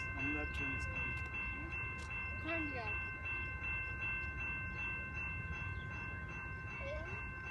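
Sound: train at a station platform

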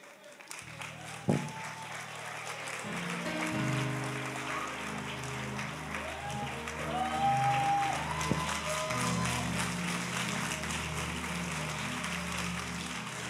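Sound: audience applause

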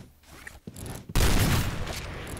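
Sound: gunfire in the video game Point Blank

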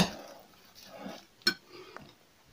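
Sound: stirring salad in a bowl

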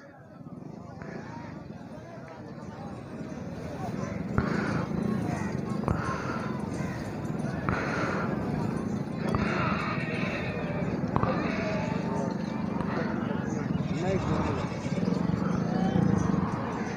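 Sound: horse walking and neighing

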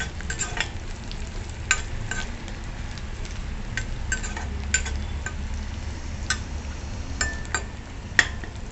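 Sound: stirring turmeric in a pan while sautéing

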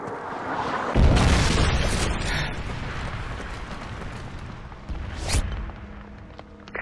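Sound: Predator missile explosion in video game Modern Warfare 3

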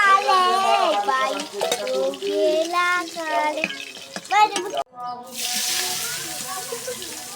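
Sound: fish being cooked in a pan, stirring and sizzling

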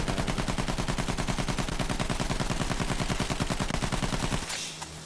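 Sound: gunfire from the video game Battlefield 1

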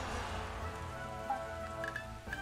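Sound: rain in a video game (Taiko Risshiden V)

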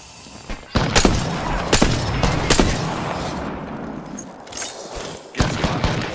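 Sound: gunfire in video game Apex Legends

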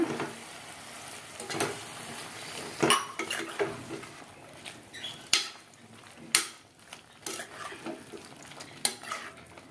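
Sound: stirring radish dal sambar with water in a pot

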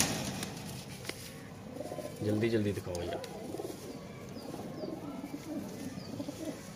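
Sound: Kasoori pigeons cooing

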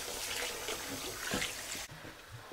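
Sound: rice being washed in water

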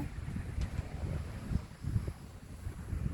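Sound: wind blowing

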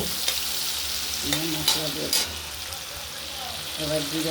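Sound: tomato being stirred and fried in a pan

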